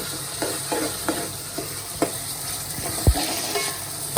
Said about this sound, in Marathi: आपल्याला ढवळाचं ढवळाचं काम दिलं आहे कांदा मारायचा कांदा लसून मारू